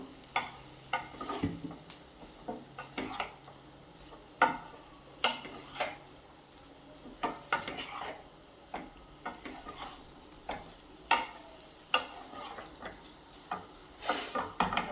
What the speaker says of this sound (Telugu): కారం వేసి కలుపుకుందాం.